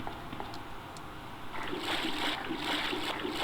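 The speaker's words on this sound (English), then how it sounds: "Nice water effects." Running sewer water in Resident Evil 2, a trickling stream that swells into louder splashing and spattering partway through, close and continuous without speech.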